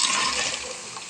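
Water poured from a bowl into curry cooking in a pan, a brief close steady splashing rush of liquid lasting about a second.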